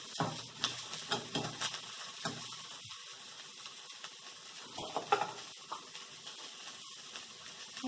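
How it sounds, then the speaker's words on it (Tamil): Ingredients for chickpea masala sauté in a hot pan until golden, a continuous close sizzle with frequent scraping stirs and small clatters, and no talking. "கொஞ்சம் பொன்னேரம் ஆகிற வரைக்கும் வதக்குவாங்க."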